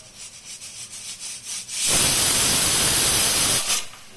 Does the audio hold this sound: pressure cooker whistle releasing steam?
yes